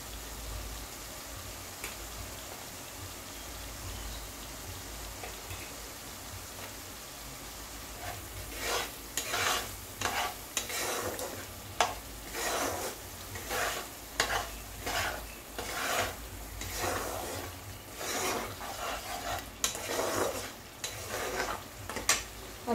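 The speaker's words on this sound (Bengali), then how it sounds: "এবার আমি ভেজে রাখা আলুগুলো দিয়ে দিলাম।" Fried potatoes tossed into a spice masala for chana paneer masala, stirred and scraped in the pan with a rapid run of rhythmic clattering strokes over a faint sizzle; quiet at first, then busy and close.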